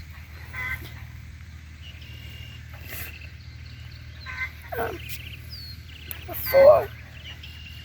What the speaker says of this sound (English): here in the background, that's some chickens we have out there. Some black sixlings